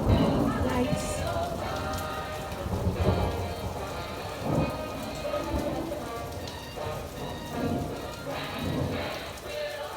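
Steady rain falls in Southern California during a thunderstorm, with rumbles of thunder rising and fading through the downpour while a person speaks faintly now and then.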